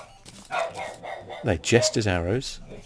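A dog barks in the background, a few short yips and barks heard under close, soft talking.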